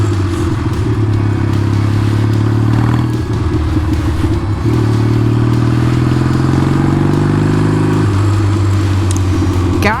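Vintage Triumph motorcycle engine running close by, a loud steady idle with a throbbing low rumble and a couple of brief blips of revving.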